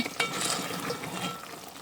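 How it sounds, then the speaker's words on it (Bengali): Mutton is stir-fried in a pot for kosha-style bhuna, giving a brief burst of sizzling. The spoon scrapes and rustles against the pot over a continuous frying hiss. "এই দিকের মাংসের খবর হচ্ছে কষানো হইতেছে এখনো"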